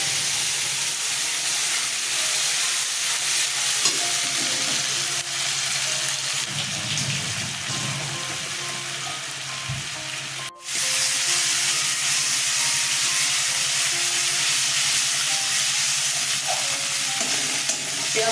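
Ginger, onion, chili and garlic dropped into hot oil with cumin, a continuous close sizzle with some stirring and a sharp clatter midway, no talking.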